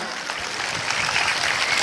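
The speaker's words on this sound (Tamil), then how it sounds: "அதில் சாருக்கு நல்லா இன்னொரு தடவை நல்ல ஒரு கரகோஷம் எழுப்புங்க" A school annual day fun fest audience applauds with a dense, steady patter of clapping that builds slightly over the short stretch, with no voices standing out.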